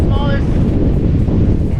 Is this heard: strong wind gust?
yes